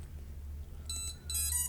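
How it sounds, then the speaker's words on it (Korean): An STM32-based drone flight controller's buzzer beeps in short bright tones, two bursts of repeated electronic bleeps over a low background hum while it waits for a radio controller connection. "실행을 했더니 지금 부저가 울리고 있는데 아직 조종기 전원을 안 켜서 연결을 대기하고 있는 상태고"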